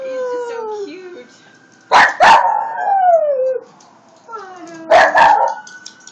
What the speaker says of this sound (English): He's howling with the sirens.